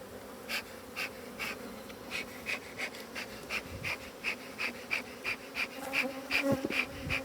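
Honeybees buzz steadily around an opened beehive, with a rhythmic series of close wingbeat pulses over a continuous low drone.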